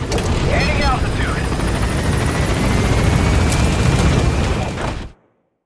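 A helicopter in the video game Metal Gear Solid V roars steadily as it gains altitude, a loud, continuous rotor and engine wash that holds for about five seconds before cutting off abruptly.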